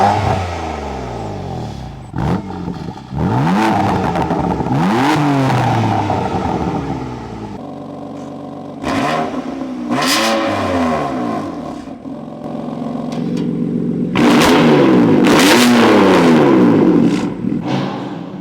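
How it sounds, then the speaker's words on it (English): A stock BMW M4 engine revs hard repeatedly, exhaust valves opening and closing, exhaust roaring and crackling as the pitch sweeps up and down, loud and close with brief pauses between pulls. "this is a comparison between the stock BMW exhaust with the valves open and closed"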